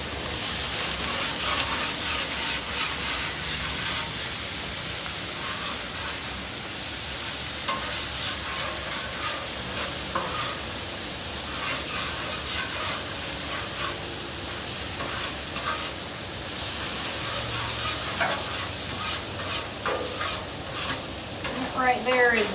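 Metal spatula scraping browned buttery fond across a hot Blackstone griddle cooking sausage and cabbage, steady loud sizzling and frying with repeated close scraping strokes throughout.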